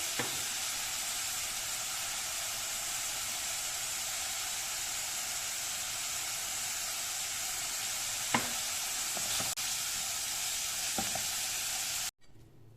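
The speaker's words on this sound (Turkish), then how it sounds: "Birazcık kavrulmaya devam etsin." Minced meat filling for a crispy cream börek sizzles steadily in a pan, a constant close frying hiss broken by a few faint stirring clicks, ending abruptly.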